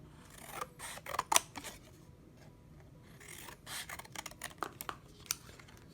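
Scissors snip through paper while cutting out a large triangle, a run of close, crisp, irregular cuts and rasps with quiet pauses between them.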